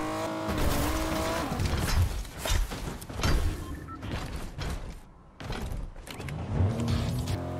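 A car drives in Fortnite, its engine revving up and down with rising and falling pitch over several seconds, with brief tire-scuff noise and a short dip in the middle.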